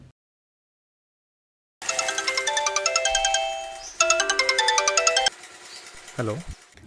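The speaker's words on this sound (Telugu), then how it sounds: "డెలివరీ ఎగ్జిక్యూటివ్ నంబర్ కూడా ఇచ్చారు, కాల్ చేద్దాం" A phone call ringing tone after about two seconds of silence, with repeated short electronic tone bursts in two bouts, then a brief voice at the end.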